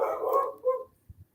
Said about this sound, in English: All the dogs are barking at me.